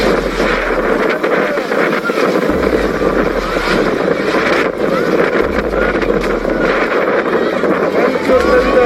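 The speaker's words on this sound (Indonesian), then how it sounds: "Kayak angin puting beliung" Strong whirlwind-like wind lashes earthquake refugee tents in Majene, a loud continuous roaring buffet with heavy rumbling gusts against the microphone while people talk over it.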